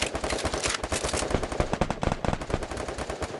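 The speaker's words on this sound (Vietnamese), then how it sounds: "Tiếng súng âm xung quanh luôn các bạn ạ." Rapid bursts of gunfire in the Free Fire battle royale game, with dense automatic shots crackling in quick irregular volleys, loud and close throughout.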